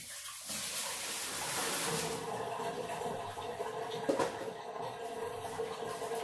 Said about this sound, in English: I'm going to take this bowl and I'm going to dump it because this water is no longer hot